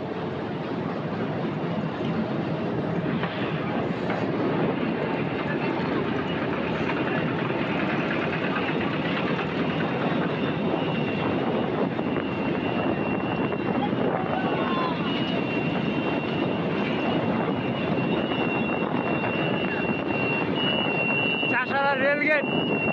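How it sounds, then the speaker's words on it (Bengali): A train pulls out of Chashara station in Narayanganj, heard from on board as a steady, loud engine and wheel rumble, with voices faintly present beneath. "আমরা এখন হচ্ছে নারায়ণগঞ্জ চাষারা স্টেশন থেকে ছাড়ে যাচ্ছি।"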